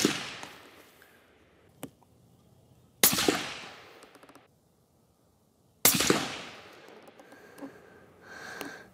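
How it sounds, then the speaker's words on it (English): Three loud rifle shots from a Bergara B-14 Squared Crest in 300 Win Mag fitted with a suppressor can and rested on a lead sled, evenly spaced a few seconds apart, each a sharp crack with a ringing tail. "Another group with the 300 Win Mag."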